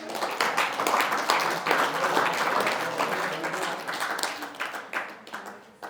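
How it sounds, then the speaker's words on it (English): Wedding guests applaud after a speech at a reception at a Canterbury resort, a dense, sustained round of clapping that holds steady for several seconds and thins out toward the end. "One more time, give her a round of applause"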